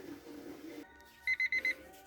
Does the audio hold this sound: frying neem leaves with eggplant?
no